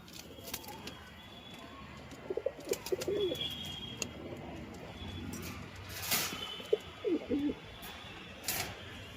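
Racing pigeons coo softly outdoors in a few short calls, with faint chirps and brief wing flutters against a steady background hiss.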